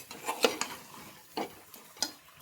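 Village-style country chicken pieces stirred in oil in a pot, a spoon scraping and clinking against the metal in irregular strokes over a faint sizzle, close by with no talking.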